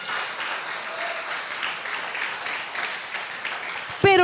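A church congregation claps in steady rhythmic unison during a Spanish-language sermon, a continuous patter of many hands, cut off at the end by a sudden voice.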